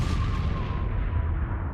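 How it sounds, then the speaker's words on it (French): Cannon fire from Commodore Perry's warships, a loud, dense low rumble of booming guns sustained throughout, with no talk over it. "Il fait tirer les canons pour montrer sa puissance."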